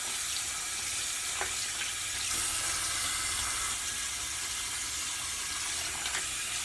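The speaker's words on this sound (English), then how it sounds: "So, I rinse all that soap out." Tap water runs steadily into a sink while soap is rinsed out of makeup brushes, a constant faint hiss with a few small splashes and no voices.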